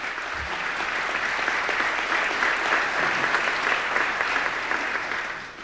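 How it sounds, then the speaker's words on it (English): Sustained audience applause fills a hall during a 1993 New York State of the State address, a broad even wash of clapping that holds steady before tapering slightly at the end. "We've grown unaccustomed to the sound of applause in recent years, so feel free."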